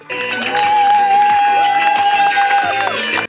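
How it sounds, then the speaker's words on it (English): Wedding guests cheer and shout loudly as a bride and groom arrive at the altar, a dense, sustained crowd roar with a prominent held voice rising above it. "Under enormous applause and cheers of the guests, bride and groom appear in front of the altar"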